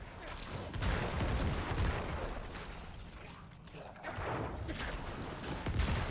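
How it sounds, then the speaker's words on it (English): Corpse explosion effects from the Necromancer in the Diablo 4 open beta: dense, rumbling bursts and crunchy blasts layered over continuous game noise, fairly loud and sustained with a brief lull midway. "The sound effect for corpse explosion is nice and satisfying."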